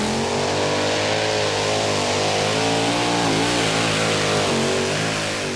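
Tractor engine roaring at full power during a tractor pull at the 2008 European Championship in Norway, a loud, sustained, close howl with shifting pitch as the pull continues.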